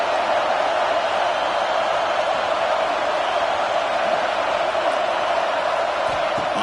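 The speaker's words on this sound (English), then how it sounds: "This crowd is trying to inspire this defense to make a big red zone stop" A steady, dense crowd roar fills a college football stadium in the EA College Football 26 video game, USC against UCLA, during a red zone defensive stand. The noise holds loud and unbroken throughout.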